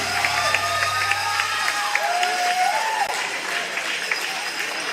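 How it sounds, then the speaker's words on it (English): Fans at an outdoor pickleball match in the Orchard cheer and clap after a winning shot, a lively burst of applause with shouts and whistles mixed in, continuous and fairly close. "And the crowd erupts here in the Orchard."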